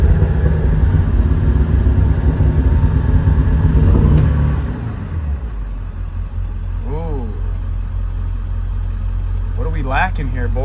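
A Ford E-350 van with a 7.3 diesel engine, 4x4 and modified, runs low and muffled while lacking power, first revving steadily and then dropping to a lower drone, with a voice speaking briefly over it.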